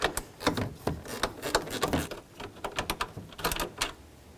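Ratchet wrench removing 13 mm fan shroud mounting bolts on a Dodge Ram 1500, quick repeated metallic clicks and clatters in irregular bursts, close up.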